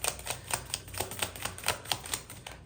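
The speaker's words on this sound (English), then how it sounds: "I do want to give this deck a good shuffle." A tarot card deck is shuffled in quick, even rounds of crisp papery snaps and clicks that stay close and steady, with no talking.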